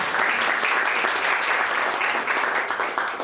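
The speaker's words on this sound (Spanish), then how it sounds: "Un aplauso." Audience applause at a 2015 COPARMEX Oaxaca press conference, a steady, dense wash of many hands clapping that holds evenly loud for the whole stretch with no talk over it.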